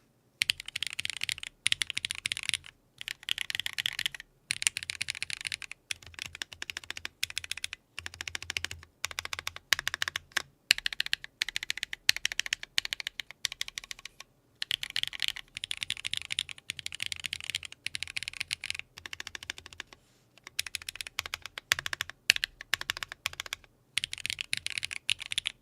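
Typing on a mechanical keyboard fitted with Alohakb keycaps, producing rapid clacking keystrokes in quick bursts separated by short pauses, close and clear with no voices.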